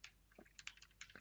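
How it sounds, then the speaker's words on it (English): Light, quick keystrokes on a computer keyboard entering a terminal command, a short run of soft clicks close by with a sharper final tap, no talk. "So let me type in here sudo partprobe"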